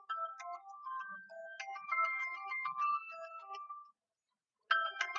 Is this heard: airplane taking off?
no